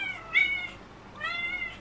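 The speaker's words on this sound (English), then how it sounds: "That's my cat." A cat meows twice, close by, each call drawn out with a short pause between them.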